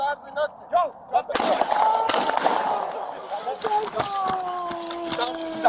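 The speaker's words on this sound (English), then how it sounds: "Shots fired." Gunshots crack out during an NYPD police confrontation with an armed suspect, a couple of loud close blasts amid tense shouting voices and echoing street noise.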